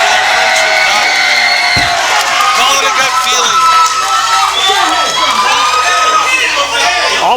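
A packed professional wrestling crowd roars for hometown hero All-Pro Reyno during a PCW Prospects Championship match. The cheering, shouting and whooping is loud, dense and continuous, with a sharp thud near the start.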